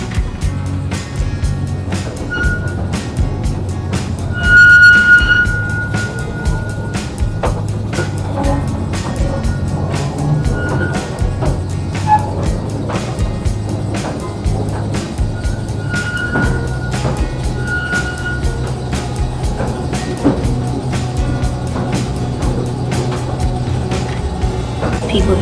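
A London underground mail railway train rumbles and clatters steadily along rails, with rhythmic clicks and occasional squeals, close and continuous throughout.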